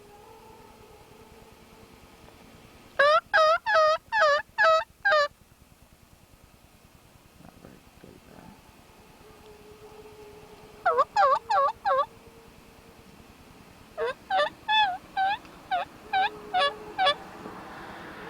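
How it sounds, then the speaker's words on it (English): Several bursts of wild turkey gobbling ring out at a distance during a turkey hunt, each a rapid rattling series, with a brief spoken remark between them. "there he gobbled again"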